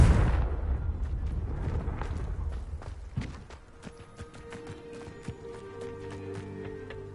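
A Confringo fire spell bursts in Hogwarts Legacy, opening with a loud, boomy blast that rumbles and crackles away over several seconds, followed by scattered sharp impacts and a faint sustained tone.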